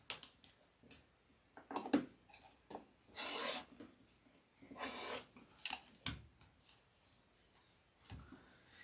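Quilt blocks are trimmed with scratchy, rasping cuts and rubs of cutter on fabric and mat, a series of short close strokes with a few longer sweeping passes, no voices.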